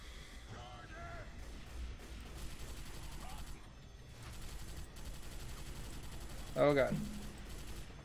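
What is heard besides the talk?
Stormtrooper rifle gunfire in a modded Left 4 Dead 2 video game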